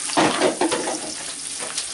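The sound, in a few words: onion sizzling in hot moringa oil in cast iron pan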